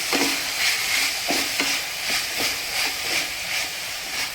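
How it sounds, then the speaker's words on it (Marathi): Chopped spring onion greens stirred in a hot frying pan for a dal and green chilli stir-fry, with a loud steady sizzle and rhythmic spatula scrapes about every half second, close up. "आता आपण कांद्याची पात थोडी थोडी करून घालून घेऊया आता ही व्यवस्थित अशी आपण मिक्स करून घेऊया"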